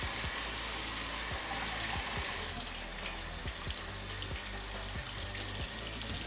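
Hot water from a bathroom faucet in a master en-suite running in a steady, close hiss, with a faint rhythmic low thumping underneath throughout.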